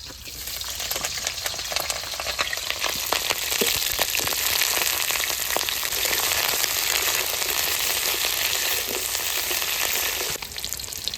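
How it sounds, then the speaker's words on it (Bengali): Cauliflower fries in oil with a dense, constant crackling sizzle, loud and close, running unbroken for several seconds. "এখন আমি ফুলকপিগুলো ভেজে নেবো"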